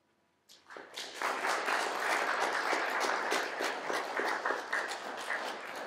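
An audience clapping at a high school poetry reading: applause starts suddenly after a quiet moment, swells quickly and holds steady as a dense, even round of many hands, easing slightly toward the end.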